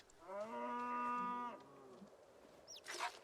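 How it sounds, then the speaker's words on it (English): A cow in a post-apocalyptic survival game gives one long, clear, fairly close moo lasting over a second, followed by a short faint rustle and a brief higher sound near the end; no talking. "This cow here is giving so much milk."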